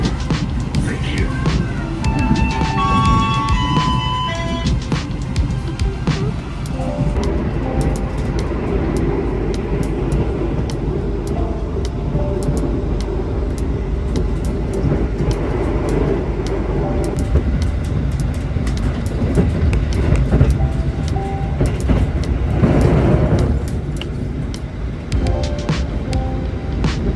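The Lodaya train rumbles and clatters steadily on its arrival at the station, a continuous heavy rolling noise with faint announcement tones early on.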